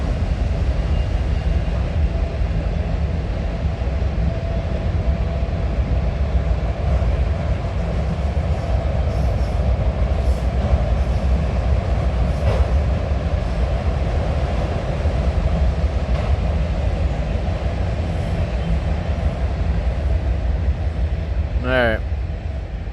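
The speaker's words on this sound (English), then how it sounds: "Pretty long train." A long train rolls past at steady volume for over twenty seconds, a continuous rumble of wheels and cars that barely changes, ending with a brief high squeal of metal near the end.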